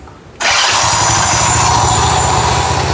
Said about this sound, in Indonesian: Kita coba remote double starternya ya.